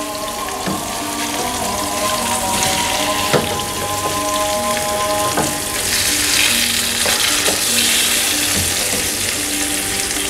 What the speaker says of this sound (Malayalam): ഇനി നമുക്ക് നമ്മുടെ മീനിനെ ഒന്ന് മറിച്ചിട്ട് മറുഭാഗം കൂടെ നന്നായിട്ട് ഫ്രൈ ആക്കി എടുക്കാം.